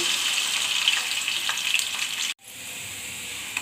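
Onion paste and curry leaves frying in hot oil in a pan on the stove, a steady close sizzle that cuts out abruptly, then resumes as a softer hiss.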